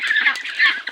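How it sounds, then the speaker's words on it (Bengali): Young ducks about 33 days old quack in a short burst of loud, nasal squawks, close by. "এই হচ্ছে আমাদের প্রথম হাঁসগুলো"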